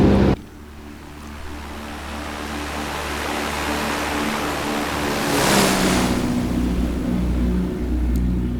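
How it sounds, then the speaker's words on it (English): Steady engine drone of a Piper PA28 Archer light aircraft in the X-Plane 12 flight simulator, a continuous broadband hum after a brief opening burst, swelling slightly in the middle and holding steady without talk. "The engine sounds are good though."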